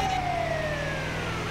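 An ambulance siren in the video game GTA V wails loud and continuous, its pitch sliding steadily downward as it passes, over a steady low rumble of traffic.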